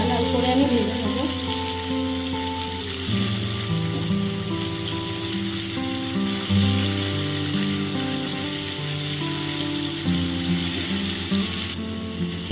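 Prawns marinated with salt and turmeric fry in hot oil, a steady close crackling sizzle running continuously beneath sustained tonal background music.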